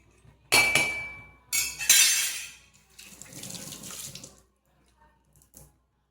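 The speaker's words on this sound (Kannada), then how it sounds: "ತುಂಬ ನೀರು ಹಾಕಿದೆ ನಾನು." Water splashes into a pot of rice in several loud, close bursts of pouring, with light metallic clinks before it trails off into near silence.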